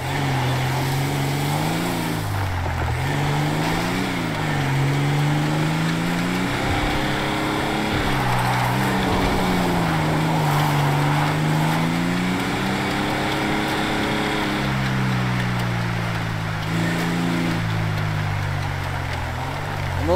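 A car drives steadily through a video game world, its engine droning continuously with rising and falling pitch as it speeds up and slows, loud and close throughout.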